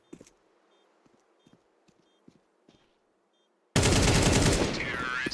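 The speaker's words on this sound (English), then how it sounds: "Beautiful shots from Shiro there" Gunfire in Counter-Strike 2 during an esports match: a quick run of sharp, faint shots spaced across a few seconds, followed by a sudden loud, dense burst of noise.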